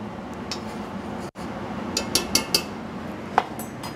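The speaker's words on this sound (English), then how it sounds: "Give that a little stir." Metal spoon clinks a few times against a pan of cooked shrimp garnished with parsley, sharp light taps over a steady low kitchen hum.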